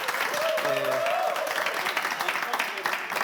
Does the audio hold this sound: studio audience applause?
yes